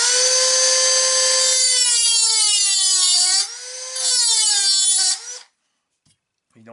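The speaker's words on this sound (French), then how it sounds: "ma méthode préférée, c'est mettre un petit coup de disqueuse et d'y aller avec le tournevis plat" An angle grinder whines loudly and steadily while cutting on a Thunder Tiger K-Rock MT4 G5 RC car chassis, dipping in pitch under load, then stops abruptly after about five seconds.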